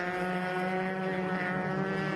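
Formula Enterprises race cars battle for position on the Daytona road course during an SCCA Runoffs race, their engines a sustained distant drone with wind rush.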